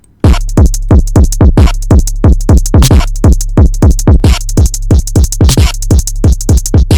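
Loud, gritty electronic EDM dubstep kick drum with clipping, hitting in a fast, steady pattern, each thump dropping in pitch with a harsh, clipped edge.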